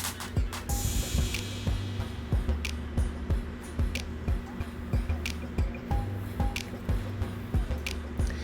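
A lace hair weave being washed by hand with dish detergent: repeated wet squishing and squeezing strokes in a steady rhythm, close and fairly loud, with occasional drips and splashes.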